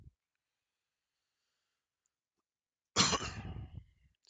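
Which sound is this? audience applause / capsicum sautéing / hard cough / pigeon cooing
hard cough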